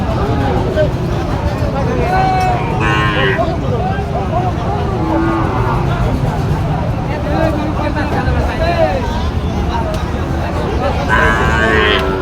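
Sahiwal cattle low and moo at a busy outdoor cattle market in Joypurhat, with a few calls rising above a constant crowd murmur and nearby chatter.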